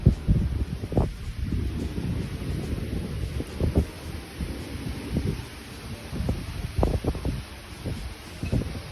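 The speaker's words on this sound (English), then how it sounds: "It's a little breezy today." Breezy coastal wind at Upham Beach on St. Pete Beach, Florida, rumbling and buffeting the microphone in a steady low roar with repeated stronger gusts for the whole stretch.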